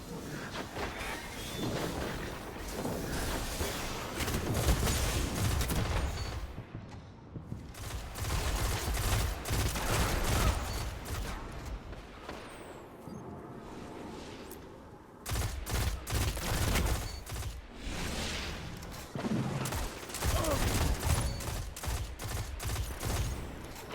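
The SUROS PDX-45 auto rifle fires in the video game Destiny in rapid, loud bursts of sustained gunfire. A few short gaps break the volleys, and no one speaks.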